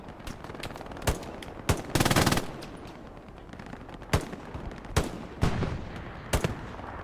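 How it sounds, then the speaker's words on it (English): Machine gun fire in an online match on the Foy map comes in short, sharp bursts and single cracks spread across a few seconds, with one longer rattling volley among them, loud and close without talk. "This is a really nice spot for MG"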